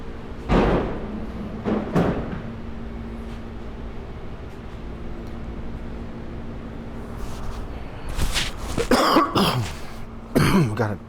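A man coughs and clears his throat several times, close to the mic, with quieter stretches between bursts and a few harsh throat-clearing sounds near the end.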